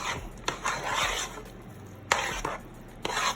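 A spoon stirs milk into creamy, cheesy mashed potatoes in a pot: close, soft squelching and scraping strokes come in uneven bursts, with a few sharper taps against the pot and no talking.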